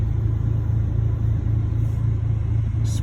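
An Audi engine in race mode drones as a low, steady rumble while the pedal is lightly tapped and the car creeps along, close and continuous without sharp revs.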